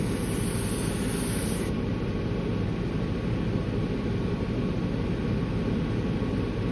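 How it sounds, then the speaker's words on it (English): A sprayer runs at low pressure, giving a steady, even hiss of fine mist that continues without a break. A brief brighter burst at the very start gives way to a constant broadband rush at close range. "See how even though I'm using low pressure, it's spraying fine."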